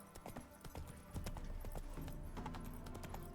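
Horse hooves clip-clop steadily as a horse travels through a forest in The Witcher 3, a continuous rhythmic trot of moderate volume heard without speech.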